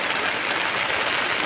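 Steady, loud hiss of rain falling during a bike ride through a flooded street, an even wash of noise with no distinct drops or voices.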